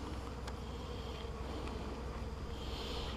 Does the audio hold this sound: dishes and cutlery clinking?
no